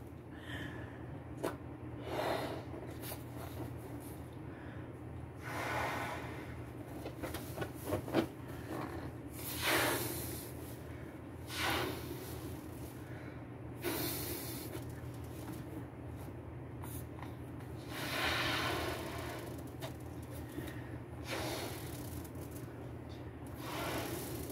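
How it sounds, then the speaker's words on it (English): Someone blows up a balloon inside their shirt by mouth, with repeated breathy puffs and rushes of air, rustling fabric and soft snorting breaths spread across a long stretch, close and moderately loud over a steady background hum. "I am going to blow up this balloon in my shirt"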